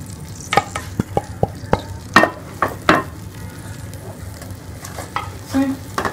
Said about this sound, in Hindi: ये मसाला भून रहा है